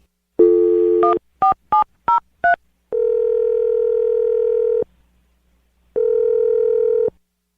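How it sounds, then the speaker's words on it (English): A landline telephone plays a steady dial tone, then five quick keypad beeps as a number is dialed, followed by two long ringback tones with a pause between them, all loud and close. "All right, I'm going to dial the number right now."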